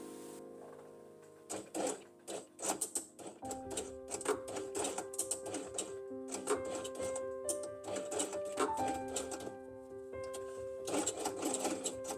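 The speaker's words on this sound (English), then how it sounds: "We will start sewing from here to this place." A sewing machine stitches felt pieces for a dinosaur quiet book, starting in short, stuttering bursts and then settling into a longer, steady whirring run with its rhythmic needle clatter, fairly quiet and close.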